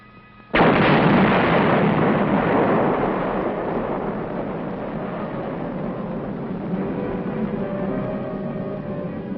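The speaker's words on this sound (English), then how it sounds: "A nitrate factory smokestack is blown up by an engineer demolition team to prevent its use as a landmark by the Reds" An engineer demolition team blows up a nitrate factory smokestack near a beach area in wartime Korea, a single sharp, loud blast followed by a long, slowly fading roar of collapse and rumbling debris.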